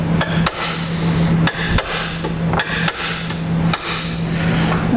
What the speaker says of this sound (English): take a hammer and a chisel, and we're going to tap it out a little bit